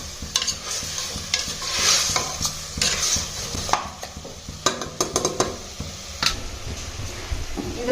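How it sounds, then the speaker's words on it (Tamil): Masala for chicken gravy sautéing in hot oil, with steady sizzling broken by frequent scraping strokes of a spoon stirring against the pan, close and fairly loud with no talk. "நல்லா எண்ணெய் பிரிஞ்சு வர்ற அளவுக்கு வதக்கி விட்டுக்கலாம்."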